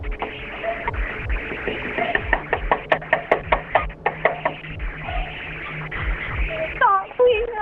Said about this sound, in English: she bangs on the door, pleading for help